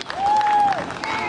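Audience at a live fright-fest stage show claps for a volunteer, a steady round of applause with faint cheering and a sustained whistle-like tone above it.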